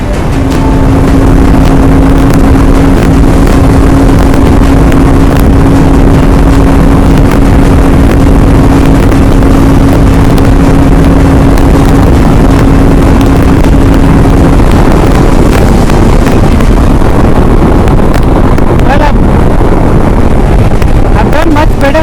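A Honda Transalp motorcycle cruising at high speed near Bangalore in strong crosswinds, a constant loud roar of wind buffeting over steady engine drone with a held engine tone, continuous for the whole stretch, with a voice speaking over it.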